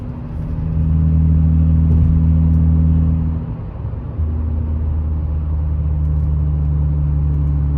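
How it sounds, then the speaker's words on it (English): An Acura TL with a custom exhaust cutout valve opened gives a deep, steady drone while cruising on the highway. The loud low rumble dips briefly midway, then settles back to a constant tone. "you can hear that exhaust note right away."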